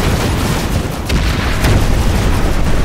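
Rocket launcher blasts in Planetside 2, a loud sustained rumble of explosions with a couple of sharper booms mixed into heavy low-end battle noise.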